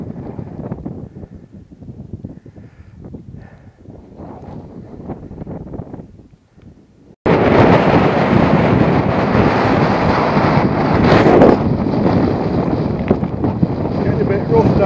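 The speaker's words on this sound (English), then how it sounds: "wind's got up" Strong wind buffets the microphone on the Rhyd Ddu track up Snowdon, a loud, steady roaring rush that starts abruptly halfway through after a stretch of quieter walking sounds and brief talk.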